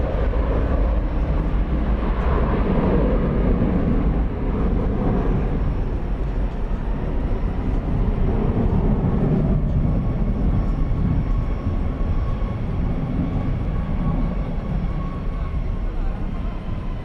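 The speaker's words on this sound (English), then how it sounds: "It's an Airbus A320." Airbus A320 airliner at DFW Airport at night, a continuous low engine rumble and roar with slowly shifting intensity, moderately near and steady for the whole stretch.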